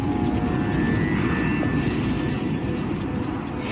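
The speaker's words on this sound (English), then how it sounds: "he tries to restart the right-hand engine with a windmill start, using the plane's speed to spin up the engine blades" A crippled airliner's right-hand engine turns over in flight during an attempted windmill restart, heard as a steady, loud aircraft engine roar with a faint rhythmic ticking, and no speech.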